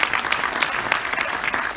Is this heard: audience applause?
yes